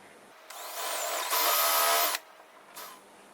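A power drill with a countersink bit cuts a screw hole in wood, whining in two short bursts of a couple of seconds after a moment of quiet, followed by a brief faint spin.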